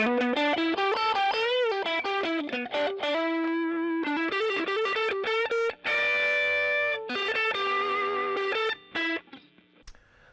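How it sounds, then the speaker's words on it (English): Overdriven tube amp distortion from a Fender Blues Junior Tweed amp, a saturated electric guitar playing chords and riffs, loud and continuous, with a brief break near the middle and a fading tail. "So it's got the distortion, for lack of a better term."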